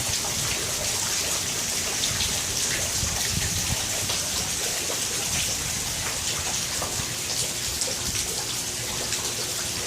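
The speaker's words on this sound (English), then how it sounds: "Looks like the rain is calming now." Steady rain pours down during a thunderstorm, a dense, constant hiss of falling drops that fills the whole stretch evenly, with no voices.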